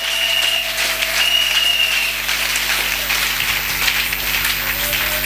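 A congregation applauds during a church worship service, continuous loud clapping with a steady electrical hum underneath and faint tones drifting through.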